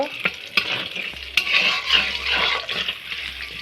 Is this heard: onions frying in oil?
yes